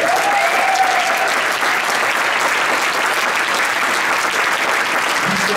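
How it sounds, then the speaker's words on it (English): Sustained, even applause from a concert audience at a high school pops and jazz show, honoring a guest trumpeter, a dense wash of clapping with no break. "Let's give him a round of applause"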